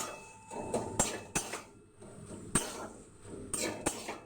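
A spoon stirs salt and turmeric through food in a cooking pot, giving scattered clinks and scraping knocks against the metal, with several sharp taps at irregular intervals over a quiet background.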